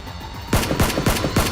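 Rapid gunfire rings out in a staged Nerf gun battle, a quick series of about five loud, close shots in steady rhythm with no talk.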